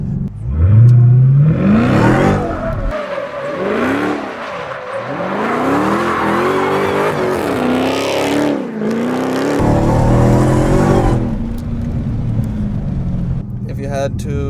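The 707 hp engine of a 2016 Dodge Charger SRT Hellcat revs loudly and repeatedly while the car slides, its pitch rising and falling in waves, with tire squeal and a person talking over it.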